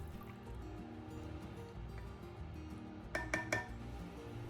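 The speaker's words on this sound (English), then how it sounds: "Next, add water and bring it to a boil." Water pours into a pan holding chicken, a low gurgling stream under a faint kitchen hiss, with a few brief clinks near the end, close and without speech.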